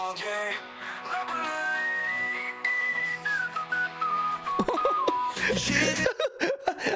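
Whistle-like melodic line from the intro of an AI-generated Suno song, a clear sliding tonal melody over instrumental backing, turning busier and choppier near the end.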